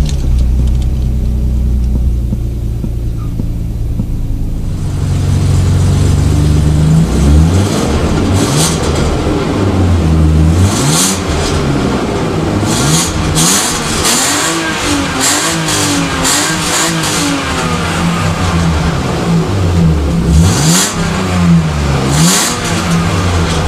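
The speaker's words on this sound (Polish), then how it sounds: "Tak to auto odpala teraz na totalnie zimnym silniku." A BMW E39 520i on a cold morning in a garage: a steady idle, then the engine catches stronger and is revved repeatedly in loud rising and falling sweeps, close and alone without talk.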